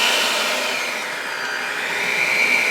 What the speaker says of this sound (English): We'll grab our mixer.